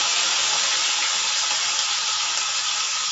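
Curry leaves and coriander sizzle steadily in hot oil for a mutton gravy, a dense, continuous loud hiss and crackle with no pauses and no voices.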